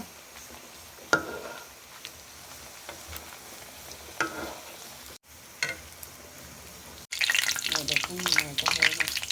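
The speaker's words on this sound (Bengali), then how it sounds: "তেলের কড়াই তাই এরকম কালার এইসব কড়াইতে ভাজতে বেশ ভালো" Papri deep-frying in oil in a wok, a soft steady sizzle with occasional stirring scrapes, swelling into a loud, vigorous bubbling crackle near the end.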